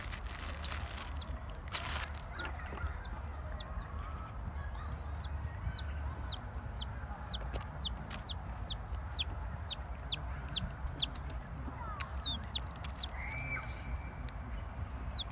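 Chickens cluck and peep steadily over a low background rumble, with repeated short chirps from chicks throughout.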